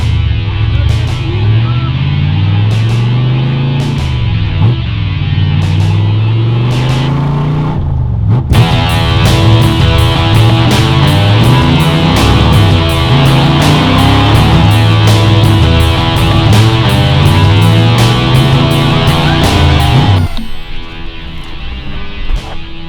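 A Corvette drives along with its engine droning loudly. The engine note repeatedly rises and falls through gear changes and revs for over twenty seconds, with no speech.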